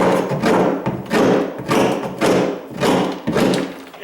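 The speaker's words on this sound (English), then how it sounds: "And I guess I could take my hammer" A hammer knocks against a kitchen tile backsplash in six heavy, evenly spaced thuds, close and loud.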